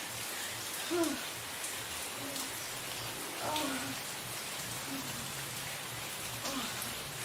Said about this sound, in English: look outside if there is any more rain falling